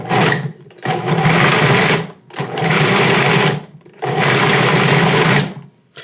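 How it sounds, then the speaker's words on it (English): A food processor pulses chopped dates in three loud motor bursts with short silent gaps between them, close up and with no voices. "I'm going to give them another couple pulses just to get them a bit smaller"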